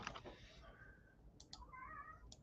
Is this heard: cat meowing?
yes